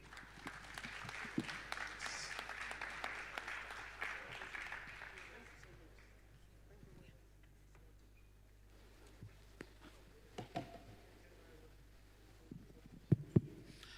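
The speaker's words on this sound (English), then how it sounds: "A round of applause again" An audience at a Lagos economic development panel session gives a burst of applause that fades out over several seconds, followed by quieter scattered claps and low room noise.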